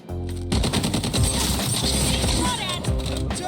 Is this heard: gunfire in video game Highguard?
yes